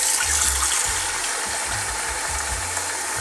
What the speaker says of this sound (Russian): Включайте горячую воду. Горячая вода, кипяток идет